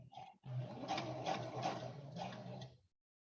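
A sewing machine stitches a seam at a short stitch length, a close, quiet run of rapid mechanical ticking in a few short bursts with a brief pause near the start.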